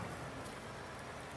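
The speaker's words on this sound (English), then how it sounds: "it absolutely hammers it down with rain" Rain pours steadily in the Farming Simulator 19 video game on PS4, a constant soft hiss with no pauses and no voices over it.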